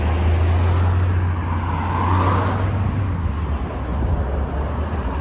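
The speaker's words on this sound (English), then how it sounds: "And that here looks like a New Flyer CNG Excelsior bus." A New Flyer CNG Excelsior city bus rolls along a downtown Phoenix street, a steady low engine drone and broad road rumble holding throughout amid surrounding traffic noise.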